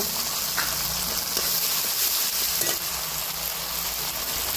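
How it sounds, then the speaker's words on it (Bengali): Tomatoes and poppy seed paste fry in a pan, giving a steady, close sizzle with a few soft stirring scrapes and no talking. "টমেটো ভাজা হয়ে গেছে, এবারে আমি পোস্ত বাটা দিয়ে দেব।"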